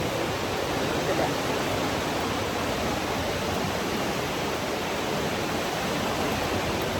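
Steady, loud roar of falling water fills the whole stretch without a break, a waterfall close by in the Aare Gorge near Brienz, Switzerland.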